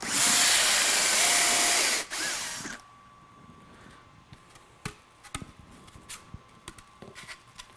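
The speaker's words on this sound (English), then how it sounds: "The drill guide goes onto the end of the model and center hole is drilled." A drill bores a center hole through a prosthetic foam model fitted with a drill guide, starting as a loud, steady whir for about two seconds, then a shorter burst, followed by quieter scattered clicks and knocks.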